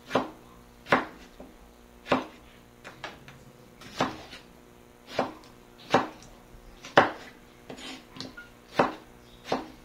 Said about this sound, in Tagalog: Pagkatapos ng luya ay sinunod ko namang hiwain ang kamatis.